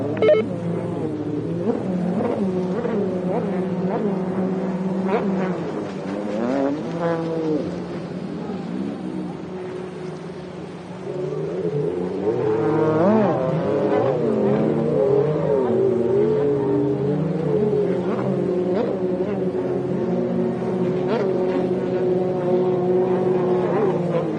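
Race cars lap a track, engines droning and revving with rising and falling whines as they pass and shift, a steady loud roar that swells in the second half, with no speech.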